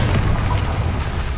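Incendio, a fire spell in the wizarding game Hogwarts Legacy, gives a sustained low roaring burst like a flame gust, steady and close throughout with no talking.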